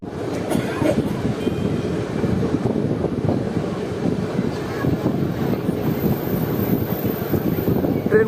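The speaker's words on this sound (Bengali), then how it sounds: "ট্রেন ক্রস করছে আমাদের এখন মানকুণ্ডু রেলওয়ে স্টেশন।" Indian express train running through Mankundu railway station, a steady loud rumble and rattle of wheels and carriages continuing without break, with wind buffeting the microphone.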